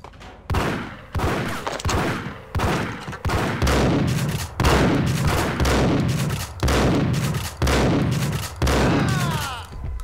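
Rapid Uzi gunfire in the video game Max Payne, loud close bursts repeating about once a second with a rattling, echoing tail after each burst.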